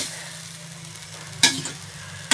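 Maggi noodles stirred in a pan make a soft, continuous sizzle, broken by two sharp, loud scrapes of the spoon against the pan about a second apart.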